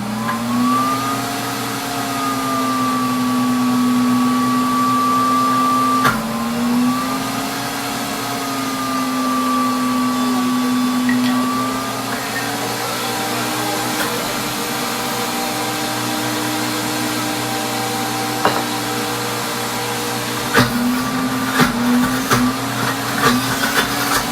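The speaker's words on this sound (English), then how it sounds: "So we're gonna go ahead and hit grind again." A food processor grinding homemade hummus runs steadily, a loud motor whine with a strong hum that shifts pitch slightly as the load changes, continuous throughout with no talk.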